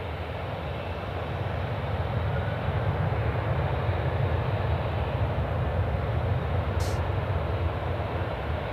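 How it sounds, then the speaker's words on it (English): Cargo airplane taking off from Sydney Airport runway 16 right, heard as a steady, broad engine roar building slightly and holding at a moderate distance, with no talk over it. "The Maz cargo now cleared for takeoff, runway 16 right."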